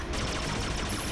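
A cartoon double sword cannon weapon firing, a dense loud burst of rapid gunfire-like blasts packed tightly together over about a second, with a rising tone near the end.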